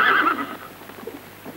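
A single loud, high horse whinny rings out at the start, then fades into quieter snorting and faint movement.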